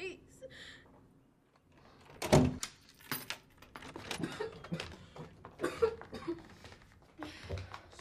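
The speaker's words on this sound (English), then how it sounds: "Aren't you going to open the door?" In a dramatic film scene, a door is opened with a sudden loud clunk after a quiet pause, followed by scattered rustling, shuffling and handling noises.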